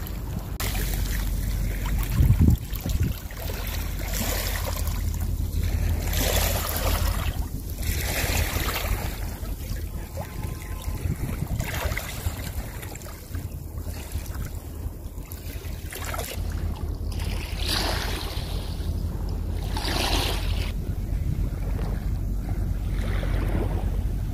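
The Ruhr river splashes and babbles steadily. The flow is close and fairly loud, with surges that rise and fall over the continuous rush of water.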